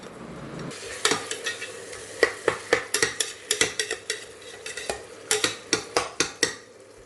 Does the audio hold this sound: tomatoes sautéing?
yes